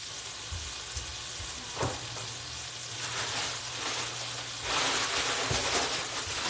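Hot oil sizzling in a pan while turkey burgers and fries are cooked, a steady broadband crackle with a couple of sharp pops that grows louder and denser near the end, close by and with no talking.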